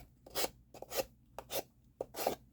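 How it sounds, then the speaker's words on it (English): A sanding block brushes along and off the edge of a board to round it, making four rhythmic, close raspy strokes with short pauses between, quiet and with no voices. "And then I take my sanding block,"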